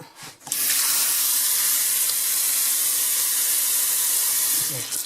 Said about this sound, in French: quand on les a récupérées, on les rince